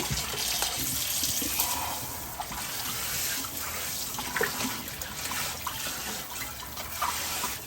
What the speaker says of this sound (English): we're going to take and wash these green leaves of the cabbage really well